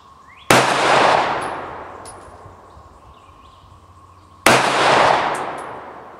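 A Glock 9mm pistol fires two loud, sharp shots about four seconds apart outdoors, each followed by a long echoing decay.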